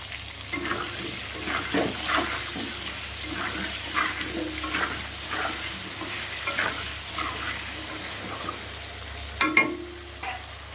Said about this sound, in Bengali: আলুটা একটু বেশ লাল লাল করে ভেজে নিয়ে আবারও ফিরে আসবো